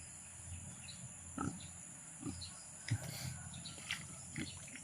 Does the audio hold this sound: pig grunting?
yes